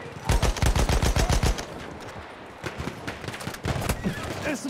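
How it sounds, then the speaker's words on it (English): Machine gun fire in a PC first-person war game, a loud rapid burst of evenly spaced shots followed by scattered further gunfire and battle noise, with little talk. "Machine gun over there."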